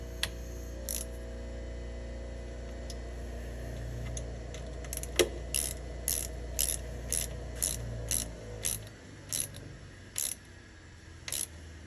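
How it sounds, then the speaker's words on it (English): Ratchet clicks tightening bolts on a BMW 2002 door stop bracket, close and crisp, with a run of quick pawl clicks followed by slower, evenly spaced pairs of clicks. "I'm going to tighten the bolts."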